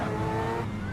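A racing car in a driving simulator game holds a steady engine drone with a faint tire squeal, tapering slightly toward the end, with no talk over it.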